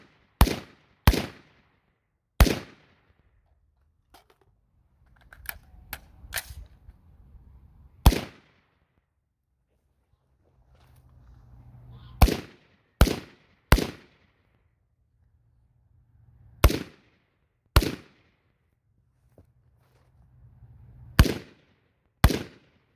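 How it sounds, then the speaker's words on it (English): An AR rifle fed from a Mission First Tactical magazine fires down range at an outdoor range: about a dozen sharp, loud shots at irregular intervals, some in quick pairs or triples, with quiet rustling between them. "Let's take some shots down range, shall we?"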